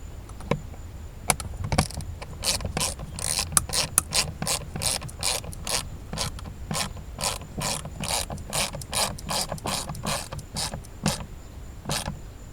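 A hand ratchet on an extension snugs screws into plastic on a 2015 Jeep Grand Cherokee, giving a long run of quick, regular clicking bursts close up, with a few louder clacks and no voices.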